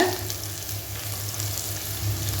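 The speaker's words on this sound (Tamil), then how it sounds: "இப்போ இது ஒரு நிமிஷம் நல்லா வதக்கி எடுத்துக்கலாம்" Onions and green chili sautéing in a pan for veg biryani, a steady close sizzle with a faint low hum underneath and no talking.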